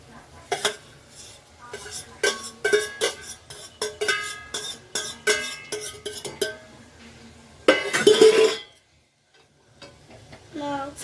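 Rice being added and stirred into spinach in a cooking pot, giving a rapid series of sharp metallic spoon clinks and scrapes, then a louder burst of scraping and a short quiet pause before a few more taps.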